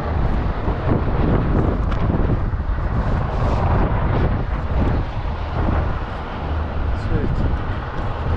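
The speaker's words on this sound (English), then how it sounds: "when this started, just now it was really windy" Strong, steady wind roars and buffets the microphone at the top of a tall construction crane, a constant loud rushing that fills the whole stretch with no pauses.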